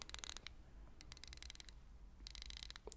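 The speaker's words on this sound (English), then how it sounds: "so that you can hear the clicks of the bezel" Quick dry clicks from the rotating bezel of a Seiko 5 Sports automatic watch, held close. Sharp ticks arrive in rapid bursts with short pauses between them, faint and alone.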